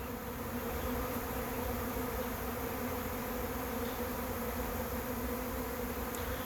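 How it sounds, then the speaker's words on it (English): A large honey bee swarm moves into a trap box, a dense, steady buzzing hum of many wings filling the air continuously and close by with no other sounds. "If it's a big enough swarm, they can't get in the hole fast enough."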